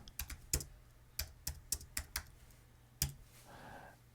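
Typing on a computer keyboard, a close run of crisp key clicks in an uneven rhythm with short gaps, ending in quieter sound.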